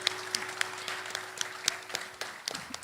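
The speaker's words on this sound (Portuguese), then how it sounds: "Você pode aplaudir o Senhor, amém?" A church congregation applauds during a praise and worship service, with scattered, sparse claps ringing out faintly and irregularly over a low steady hum.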